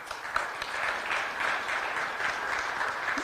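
Audience applause for the third-place team at a CFA Institute Research Challenge local final in Kenya, a sustained, evenly spread crowd clapping at moderate loudness with no speech.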